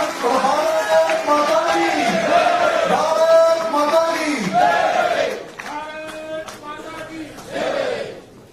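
Applause and cheering at a Bharatiya Janata Party joining ceremony, a loud, steady crowd roar with shouts that stays strong for about five seconds, then drops back to quieter clapping and voices before swelling again near the end.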